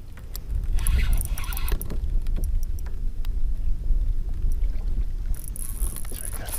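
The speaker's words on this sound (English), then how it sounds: "The wind's picking up." Steady wind roars loudly against the microphone while kayak fishing on open water, a continuous low rush with occasional light patter and small knocks from the boat.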